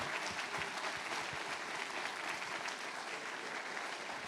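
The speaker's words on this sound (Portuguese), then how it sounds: "E nós vamos dar ao Senhor a nossa melhor salva de palmas." A church congregation applauds during a service, a faint, distant, continuous wash of many hands clapping with no clear individual claps, steady throughout.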